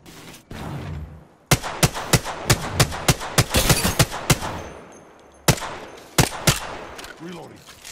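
Gunfire in a video game shooter: loud, sharp shots fire in quick bursts, first a dense volley of about a dozen cracks, then a pause with quieter low rumble, then a few more spaced shots near the end.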